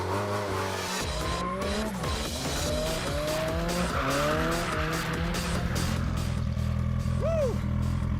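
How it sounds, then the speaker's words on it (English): Cars drifting around the Kouvola racetrack, tires squealing in long sweeping wails that bend up and down over a revving engine, loud and close, with a brief shout near the end. "we're at the world famous Kouvola racetrack doing some drifting with cars"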